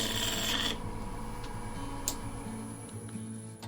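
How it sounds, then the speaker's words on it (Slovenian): A turning scraper working an olive wood live-edge bowl on a lathe, a close, continuous rasping scrape, loudest at the start, then settling into a lighter rhythmic rubbing with a few sharp ticks over the motor hum. "Evo, še gremo malo postrgati."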